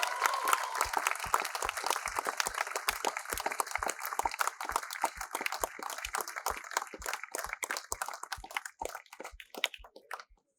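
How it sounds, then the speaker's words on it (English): Audience applause at an awards ceremony and exhibition, dense steady clapping from a sizeable crowd that thins toward the end, leaving a few scattered claps before it stops. "A round of applause for everyone"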